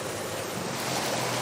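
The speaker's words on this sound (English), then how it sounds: "Here we go, the engine's slowing down." A boat moves across open water with its engine slowing, heard as a steady broad wash of water and engine noise with wind buffeting the microphone, close and continuous.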